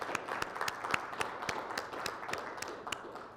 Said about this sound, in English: So can we just give Zach Powell a round of applause?